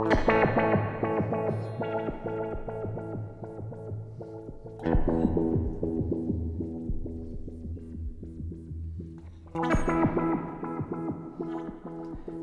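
Sequenced effects from the BLEASS Motion FX app reshape a distorted, throbbing synth or guitar texture, swelling in pulsing waves with echoing tails and sudden fresh attacks about every five seconds, alone without talk.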